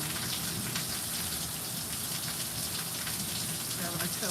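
Steady rain falling on a rainy day, a dense even hiss of drops pattering on surfaces, soft and constant with no pauses.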